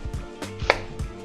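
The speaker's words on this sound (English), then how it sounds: "we're gonna start with our onion. I'm gonna split that. Do slices." A knife slices an onion for a Philly cheesesteak, a quick series of crisp chops hitting a cutting board in an irregular rhythm, close and clear with no talking.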